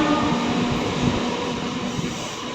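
Rajahmundry–Kakinada local train running with a dense, steady rumbling roar heard from inside, loud and constant with a faint tonal hum and no talk.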